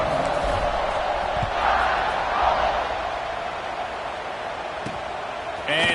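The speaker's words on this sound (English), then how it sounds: "this crowd now ready to get behind them" A large stadium crowd at a college football game roars in a continuous dense wash of cheering before a kickoff, with a commentator's voice over it.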